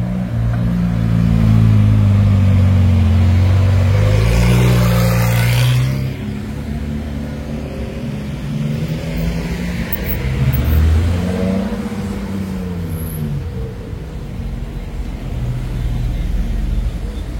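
A Lamborghini SVJ supercar on the street in Cannes gives a loud, close engine rumble that swells early, then eases into a lower steady drone with another rise near the end, and voices talk faintly underneath.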